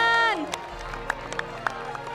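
After a brief voice, a studio audience at SASUKE Ninja gives scattered, fairly faint applause for a contestant, with a few sharp claps standing out from a soft crowd murmur.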